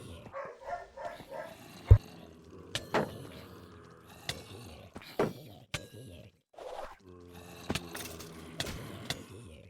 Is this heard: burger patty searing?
no